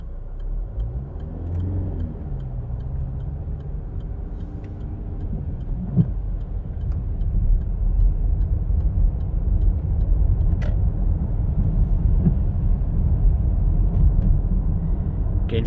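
A Range Rover Evoque drives over a coarse, harsh road surface, giving a steady, loud low rumble of tyre and road noise from inside the cabin with a few faint ticks and knocks, no talking.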